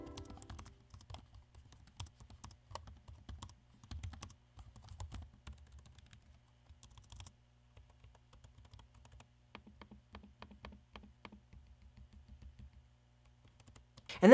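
Quiet, soft-touch keys on an HP ZBook Firefly G8 laptop are typed in quick, irregular runs of light clicks, close and low in level, fading into sparser taps before a sudden louder noise at the very end.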